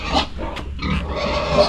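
Pigs grunt close by in a short burst of rough, throaty snorts and oinks.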